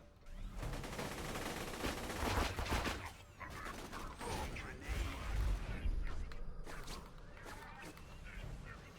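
Lead Storm gun firing in Borderlands 2, a rapid rattle of repeated shots in dense bursts with explosive booms, fairly quiet in the mix with game effects around it.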